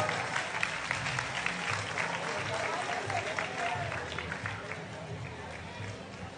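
Audience applause at a folk dance group's performance in a park, dense continuous clapping from a crowd with a voice talking over it throughout.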